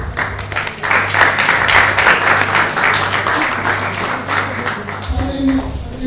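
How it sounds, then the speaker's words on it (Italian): Audience applause at a festival presentation in Naples, loud and dense, mixed with a low steady hum and some background voices, tapering toward the end. "Un applauso finale"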